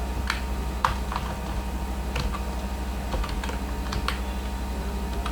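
Keys tapped in short irregular bursts on a computer keyboard while typing code, faint clicks spread over a steady low hum, with no talking.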